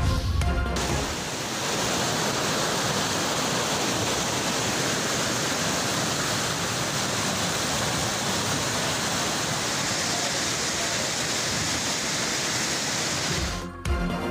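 Heavy rain pours down in a dense, unbroken roar of water that runs loud and steady from start to finish, with no voices.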